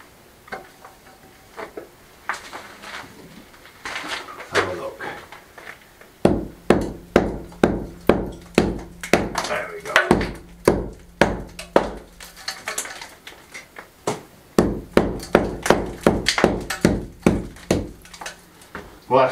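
Repeated hammer blows knocking a corner piece off during a farmhouse kitchen rebuild, loud sharp strikes in quick bursts with short pauses between groups.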